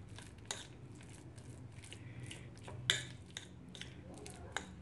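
Mashed potato and cauliflower filling for aloo gobhi paratha being stirred with a fork in a bowl, faint soft scraping with a few sharp clinks of metal against the dish, quiet and close, no talking.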